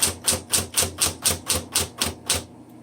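Typing on a 1960s Smith Corona Electra 110 electric typewriter: about ten crisp, evenly spaced key strikes at a steady rhythm, close and loud, then a stop.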